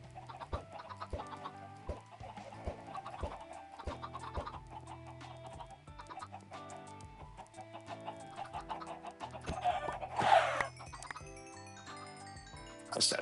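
Minecraft chickens cluck repeatedly over a busy backdrop of game music and sound effects, with a louder burst of noise near the end.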